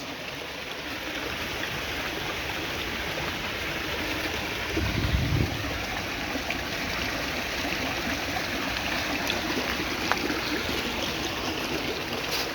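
Joes River in St. Joseph, Barbados flows with a constant, even rush of water, and a brief low thump stands out midway. No voices are heard.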